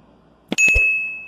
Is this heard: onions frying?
no